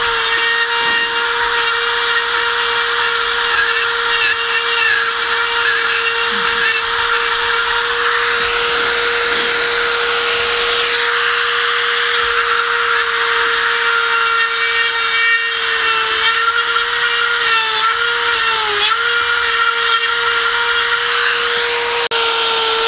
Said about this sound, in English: I'm hardening the wood, making the wood harder as I drill it.